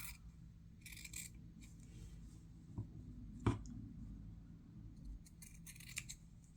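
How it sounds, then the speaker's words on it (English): Scissors trim a handmade fabric bookmark at a quiet sewing table, with a few soft snips and light rustles of cloth spread over the moment and no voices. "Let me trim this up a little bit more."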